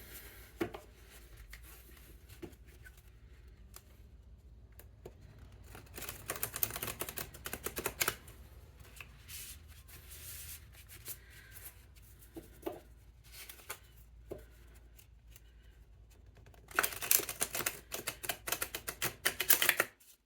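A tarot card deck shuffled overhand, rapid papery clicks and riffling patter in bursts with quieter gaps between, close and fairly faint, with no talking.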